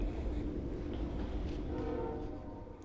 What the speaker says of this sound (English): the train is mostly gone. I can still hear it blowing its whistle in the distance